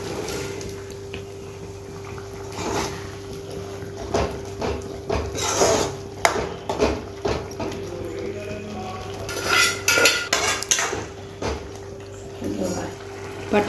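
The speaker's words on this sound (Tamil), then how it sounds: "இப்போ அது ஒரு கொதி விட்டோம்னா நம்ம வேக வச்சுருக்கிற பட்டாணியை அதில் கொட்டிக்கலாம்." Boiled peas tipped into a simmering masala pan for street-style sundal give a few scattered clatters and splashy bursts against a steady background hum, with a voice talking over parts of it.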